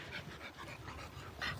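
A dog on a live group walk with nine dogs, during a training session, gives a rapid run of barks and panting bursts, fairly close and steady, with no talk over it.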